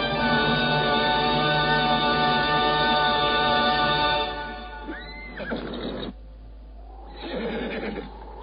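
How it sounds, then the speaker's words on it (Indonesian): A horse gives a loud, long whinny, followed by a second shorter neigh, while a rider arrives on horseback on a mountain slope. "Setelah beberapa saat lamanya berkuda, Empu Bajil akhirnya tiba di lereng Gunung Tengger"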